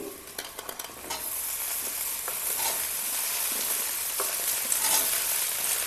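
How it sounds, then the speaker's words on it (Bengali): Potatoes fry with already-browned onions in hot oil for a Bengali fish curry, a loud steady sizzle up close, with a few stirring scrapes near the start and no talk. "পেঁয়াজগুলো ভাজা হয়ে গেল, এখন আলু আর টমেটোগুলো আগে দিব। এই আলু দিচ্ছি"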